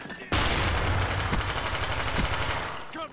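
Rapid automatic gunfire in Call of Duty Black Ops, a dense, loud burst of machine-gun shots running almost without a break for nearly three seconds before it tapers off.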